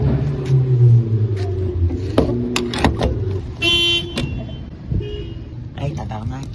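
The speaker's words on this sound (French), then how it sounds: "il y a un autre auto plus loin qui nous répond en klaxonnant" Car horns honk in short bursts from a nearby car and another farther off answering, outdoors among street traffic, with people talking and shouting over them.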